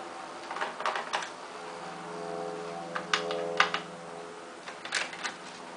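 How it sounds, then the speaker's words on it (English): Small screws being removed from a Toshiba E205-S1904 laptop, with quiet clusters of faint clicks and ticks from a screwdriver separated by short pauses, close and soft, no talking. "watching all these screws come out"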